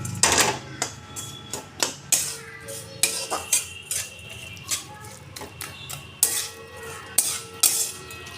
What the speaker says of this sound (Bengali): চিনি দিয়ে দিলাম। আমি ভালো করে মিশিয়ে নেব।